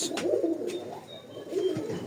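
A hungry pigeon coos softly in a few low, throaty phrases, close by, with faint background noise and no talk.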